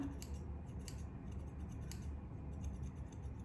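Scissors snip through long hair during an at-home layered haircut, a few crisp close cuts spaced unevenly against a quiet room, with no talking.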